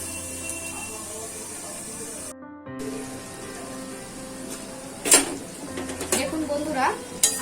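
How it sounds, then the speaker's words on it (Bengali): Vegetables for a Bengali pui saag and pumpkin chochori stirred in a pan, a soft steady simmer with a short gap, then clattering scrapes and clinks of the utensil and lid in the latter half. "এবার নাড়াচাড়া করে এটাকে আমি একটু ঢাকা দিয়ে দেবো সেদ্ধ হওয়ার জন্য।"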